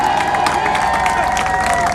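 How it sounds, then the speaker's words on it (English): Crowd at an outdoor pro-Palestine rally outside Elbit offices in Oldham cheering and clapping loudly and continuously, with a sustained whistle or tone running through the dense crowd noise. "Please give a big round of applause to Unite for Palestine from Oldham."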